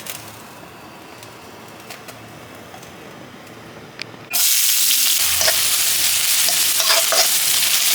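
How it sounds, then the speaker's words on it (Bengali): Carrots and raisins drop into hot oil in a pan: after a quiet stretch with a few small clicks, a loud, dense sizzle suddenly erupts and carries on steadily. "এখন আমরা গাজর এবং কিশমিশ ভেজে ফেলব।"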